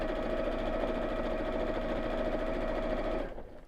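A sewing machine stitching fabric at steady speed: a continuous, fast mechanical whirr with rapid rhythmic needle chatter close by, running evenly and then slowing and stopping near the end.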